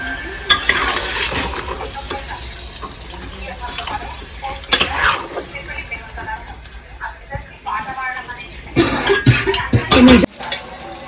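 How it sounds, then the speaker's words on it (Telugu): Mutton frying in a pot during home cooking for a Sankranthi festival, stirred with uneven scraping and clattering over a constant sizzle, bursts of sharp metal scrapes near the end, and some voices in the background. "చూడండి ఫ్రెండ్స్, మటన్ కలుపుతున్నా."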